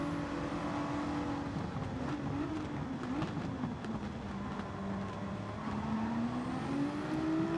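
Race cars in Gran Turismo 7 at Suzuka, with a GT4 modified road car among them, engines droning steadily through the whole stretch with rising and falling pitch as they run close together, no talking.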